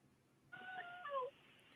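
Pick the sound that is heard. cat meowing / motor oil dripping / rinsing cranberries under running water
cat meowing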